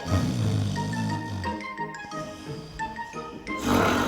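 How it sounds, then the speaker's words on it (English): Snoring from a sleeping woman in a children's program scene, rough low breaths fairly close and moderately loud with a brief tinkling accent, no talk over it. "I can hear her snoring"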